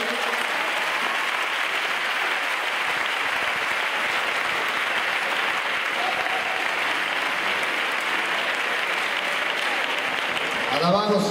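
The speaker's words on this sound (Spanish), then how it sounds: "Pueden darle un aplauso para ese Dios que vive." Sustained audience applause fills a worship festival hall, dense and steady clapping from a large crowd throughout, with a brief voice emerging near the end.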